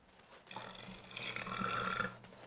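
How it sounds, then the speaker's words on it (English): A long, rumbling burp from a gamer during a Dragon Age-style fantasy game session, stretching for about two seconds, fairly close and moderately loud, alone with no talk over it. "Sorry for the burp"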